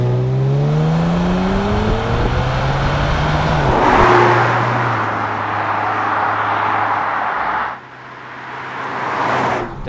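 A 2018 Kia Stinger GT2 AWD with an 8-speed automatic accelerates hard, its engine note climbing loudly in pitch, dropping briefly at two gear shifts, then rising again, heard close with no talking.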